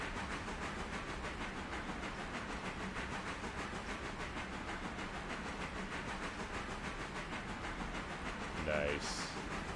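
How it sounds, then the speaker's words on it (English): Locomotives rolling on a long run in the train game Railroader give a steady, dense rumble and hiss throughout, with a brief brighter whistle-like burst near the end. "Nice long run, gives you time to kind of take in the moving locomotives."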